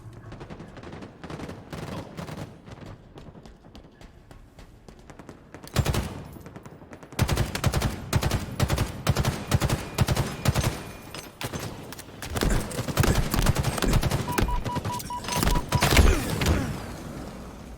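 Video game gunfire rattles in long automatic bursts of suppressive fire, quieter and sparse at first, then dense and loud with overlapping shots and impacts.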